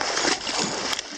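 Brief burst of splashing and sloshing as a swamp dragon lizard plunges into water, close and fairly loud, lasting only about a second.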